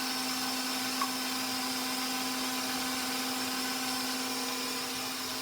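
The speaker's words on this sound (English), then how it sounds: "the eggs and the milk are mixing right now." Eggs and milk for popover batter being whirred in an electric mixer, a constant, close mechanical drone with a steady hum that holds unchanged from start to finish.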